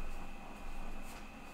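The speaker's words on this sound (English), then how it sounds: "That's my kettle going off." A kettle going off produces a steady, high whistling tone that holds for the whole stretch over a broad hissing, rushing noise of boiling, with no talk.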